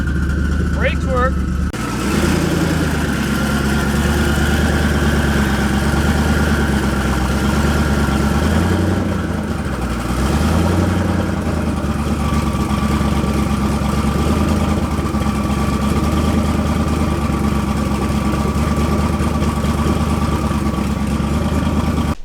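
A twin-turbo LSX-swapped Mustang street car idles loudly and close, a steady, rumbling lope after a brief startup burst, with a slight dip and recovery in the engine note partway through.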